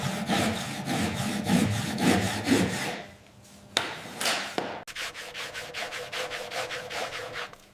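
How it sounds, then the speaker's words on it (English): Sandpaper rubs back and forth along the cut edges of a square of PVC, loud, even rasping strokes in a steady rhythm, a brief pause and a couple of knocks midway, then the scraping strokes resume. "Use a piece of sandpaper to smooth all the edges."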